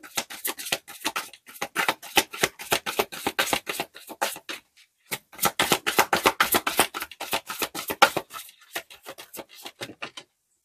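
Tarot cards are shuffled and drawn in a quiet room, giving a long run of crisp, rapid riffling and slapping flutters close to the listener, with a short pause midway and no talking.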